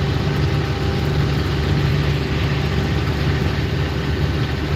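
A worn Ford 200 engine on an oat swather runs loud and steady, a constant droning rumble with a humming tone and no break, heard close with no talking.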